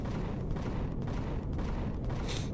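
Sustained rapid gunfire and explosive booms in the space game Empyrion, a dense continuous barrage of shots filling the whole stretch with no talk.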